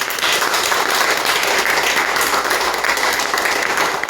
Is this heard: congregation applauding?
yes